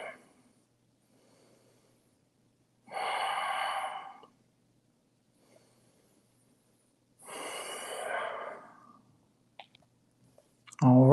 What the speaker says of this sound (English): Going for 3 more deep breaths here.